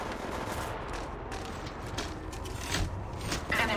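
Gunfire in Apex Legends Mobile, a steady stream of rapid shots over busy game ambience, growing a little louder toward the end.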